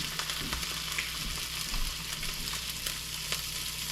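Trout sizzles steadily in a hot pan with a constant crackling fry, close by and with no voices.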